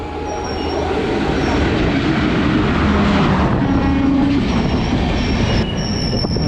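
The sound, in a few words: Jammu Tawi Kolkata Express train arriving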